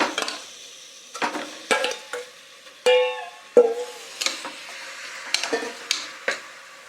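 Chicken goes into a pressure cooker for chicken pulao, with sharp metal spoon scrapes and clinks against the pot and a short sizzle as pieces hit the hot masala. The sounds are close and intermittent, with no talk.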